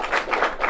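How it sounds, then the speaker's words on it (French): Brief burst of audience clapping for a correct answer on a French quiz show, dense and close, with a few uneven swells in the short span. "Il a le point, vous pouvez l'applaudir."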